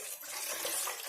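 Half a litre of water pours into a pan of curd in one brief, continuous splashing gush.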